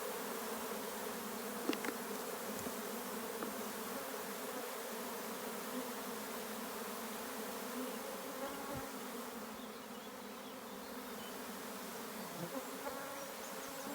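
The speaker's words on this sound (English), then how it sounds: "The bees inside are starting to fan." Steady, close buzzing hum of many honeybees fanning at a hive entrance, droning together without pause, with a few brief individual wing buzzes rising above the mass.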